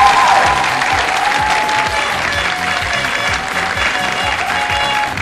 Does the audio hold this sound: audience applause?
yes